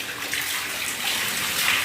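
A steady, dense rush of pouring water, loud and continuous, from torrential night rain and flood water in Chandpur town.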